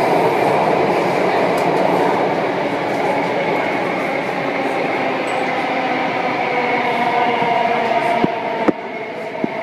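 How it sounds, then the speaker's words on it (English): A metro train runs past at Harbour Front station in Singapore, a loud continuous rolling roar with rail clatter sustained throughout, with a few sharp clicks near the end. "Another train. Going to Harbor Front again."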